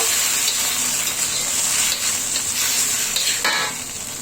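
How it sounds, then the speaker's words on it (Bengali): Chilli sauce mixture with soy sauce stirred in a frying pan, a dense, loud sizzle with scraping stirs throughout, easing off slightly near the end, no talking. "সেই সাথে অ্যাড করে তিন টেবিল চামচ চিলি সস দিয়ে এখন ভালোভাবে আমি মেরে নেব"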